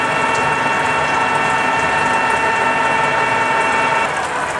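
A machine drilling through a hardened steel arbor makes a steady, loud grinding whir with a constant mechanical tone throughout, close up and without any talking.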